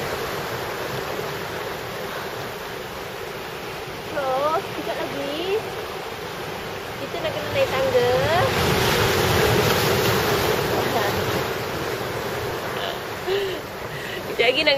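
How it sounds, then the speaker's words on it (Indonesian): Strong winter sea waves wash onto a beach in Busan, a continuous surging roar that swells and recedes, with faint higher calls and noises drifting over it. "Ombak dia pun kuat."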